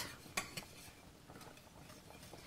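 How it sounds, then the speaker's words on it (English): A spoon stirs cream cheese into a thick mac and cheese sauce in a pot, making faint scraping and clinking strokes, with one sharper knock early on. "I'll just stir that, get that melted"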